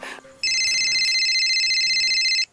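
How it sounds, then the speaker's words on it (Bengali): A phone ringtone plays as a steady electronic trill for about two seconds, loud and close, after a brief bit of background noise. "রিংটোনটা শুনতে হবে"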